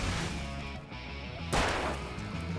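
A pistol shot cracks sharply in Alan Wake, loud and close, rising out of a dense, rumbling game soundscape and trailing off into the continuing background noise.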